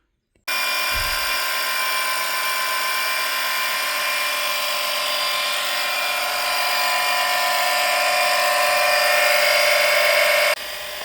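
A drill-driven wire brush scrubs rusty fuel tank bolts on a Land Rover Discovery 2, giving a steady, loud high-pitched whine that runs unbroken for about ten seconds, then cuts off.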